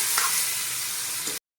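Tomatoes sautéing in two spoons of oil in a pan for Punjabi cashew curry give a steady, close sizzle with a couple of stirring scrapes, then cut abruptly to silence.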